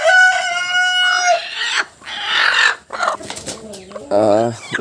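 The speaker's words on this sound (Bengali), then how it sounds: "এই জায়গায় ডিম পারতেছে মুরগি" Hens cluck and a rooster crows nearby in a poultry laying area, with loud, varied bursts of fowl calls coming one after another.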